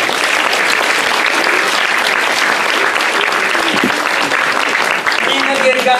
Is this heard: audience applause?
yes